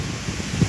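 Wind blowing outdoors in a rural area during the rainy season, a steady broadband rush buffeting the microphone, loud and continuous with no voices.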